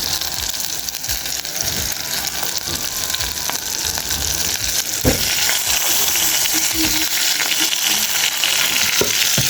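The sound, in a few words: frying cassava with onions in a pan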